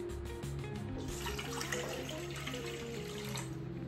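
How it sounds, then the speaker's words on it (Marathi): A pot of water heated to a rolling boil for making modak dough, giving a steady bubbling, rushing wash of liquid that holds even and fairly close throughout, with no voices. "छान अशी उकळी आलेली आहे."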